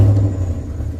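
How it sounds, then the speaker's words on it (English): A 2004 Chevrolet Silverado engine with a misfire runs at a low, uneven rumble, revved lightly by hand, close and steady with no talking. "It still feels like it's got a miss, like it's shaking. Give it a little bit of gas with my hand."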